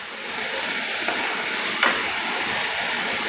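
Onions and potatoes sauté in a pot for a potato and green bean stew with sausage, making an even hissing sizzle with a couple of faint scrapes or taps.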